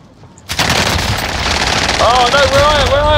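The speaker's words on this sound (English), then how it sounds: "Contact! Taking fire!" Rapid automatic gunfire from the Warzone battle royale game bursts in loudly after a brief quiet start and keeps rattling on, while an in-game voice and a player speak over it.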